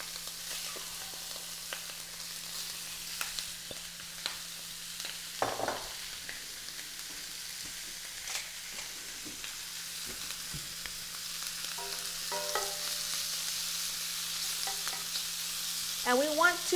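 Shrimp for garlic shrimp Alfredo sizzle steadily in a hot pan, a constant soft frying hiss broken by occasional clicks and utensil taps, fairly close and moderately loud.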